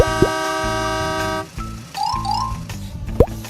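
A truck horn sounds in a long, loud sustained blast, followed by shorter, quieter tones and a few springy, cartoonish effects.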